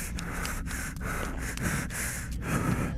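A creature in the horror video game Parasomnia, set in an abandoned hospital, breathes in heavy, rasping snorts and gasps that repeat in a steady rhythm, close and loud.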